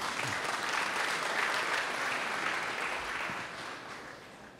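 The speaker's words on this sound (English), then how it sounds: "so you should applaud yourself" Audience clapping at a St. Paul gathering about the Mississippi river, a dense sustained round of applause that fades slightly toward the end.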